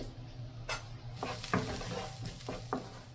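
Onion, garlic and ground peppercorn sautéing in a pan for ginataang tulingan, a steady close sizzle broken by several short scraping stirs.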